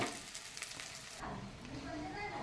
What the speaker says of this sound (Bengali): এখন আমি মশলাটাকে ভেজে নেব